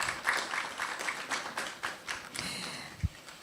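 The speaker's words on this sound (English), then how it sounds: "Shall we give another round of applause?" Short burst of audience clapping at a live digital dialogue forum on misinformation, an uneven scattered patter from a modest crowd with a sharp thump near the end.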